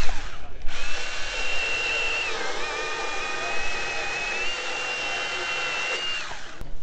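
A Milwaukee M18 FUEL Hatchet 8-inch pruning saw cuts wood under heavy pressure, a loud, steady high-pitched chain whine that dips slightly mid-cut and holds until it stops abruptly.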